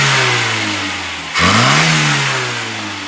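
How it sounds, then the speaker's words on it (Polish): A warm 1979 Toyota Celica with its 2T-B engine runs loud and close, dipping briefly mid-way and then revving up again before settling into a steady idle hum. "Silnik odpala bez gazu. Tak ma odpalać, teraz jest ciepły."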